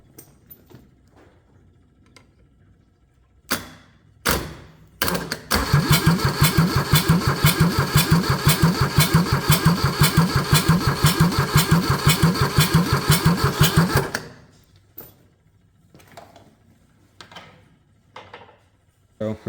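A Kubota D640 diesel engine fitted with a D722 head cranks for about nine seconds in a fast, even chugging rhythm, loud and close. Scattered clicks and knocks come before and after.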